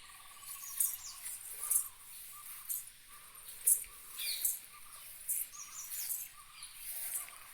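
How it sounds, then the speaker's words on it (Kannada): Birds and parrots call faintly from a quiet village coconut grove. Scattered high chirps drift over a thin insect hum, with no talking. "ಪ್ರಾಣಿ ಪಕ್ಷಿ ಸೌಂಡ್ ಎಲ್ಲ ಕೇಳಿಸುತ್ತೆ, ಗಿಣಿಗಳಿದೆ"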